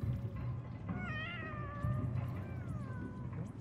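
Cats in a video game meow in a few drawn-out, rising and falling calls, fairly close and clear over a low steady background hum, with no talking.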